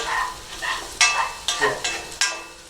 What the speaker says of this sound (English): Same technique again, is moving it around the pan, moving it around the wok